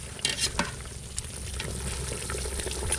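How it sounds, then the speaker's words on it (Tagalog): Duck meat boiling hard in a pot with ginger, onion and bay leaf, a continuous bubbling and sizzling churn with a few sharper clinks or stirs near the start, no talk. "Kulong-kulo na."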